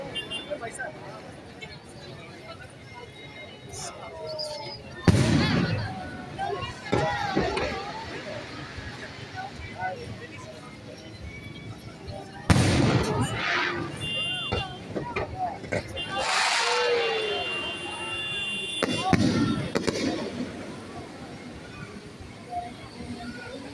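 Fireworks bursts at Araneta City in Cubao, Quezon City, Philippines: four loud, broad booms with short crackling tails, spread several seconds apart, over a steady crowd hubbub and nearby talk.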